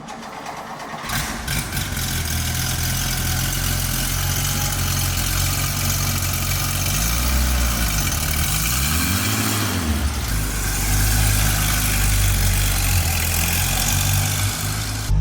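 A 1970 Porsche 911 S/T engine runs loud and steady at idle throughout, with a couple of rising and falling revs in the middle and a stronger surge near the end, no talking.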